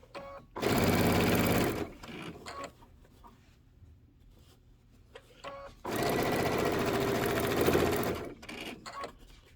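A sewing machine stitches across a seam on a quilted table topper in two loud, steady bursts of about a second and two seconds, with quiet handling noises between them.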